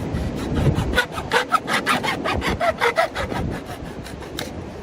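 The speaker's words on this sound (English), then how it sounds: "What we're going to do is cut off about a 5-inch section, maybe 6 inch, whatever." A hand saw cuts through corrugated plastic drainage pipe in a steady run of rasping back-and-forth strokes, close and fairly loud, with no talking.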